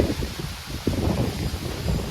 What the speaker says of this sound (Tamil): எப்படி காற்று அடிக்குது பாருங்க.